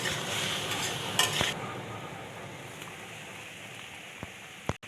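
Food being stirred in a pan while cooking a simple breakfast dish, a faint sizzle with a few soft scrapes and clinks, close by and without talking.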